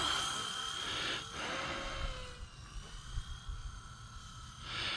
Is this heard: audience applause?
no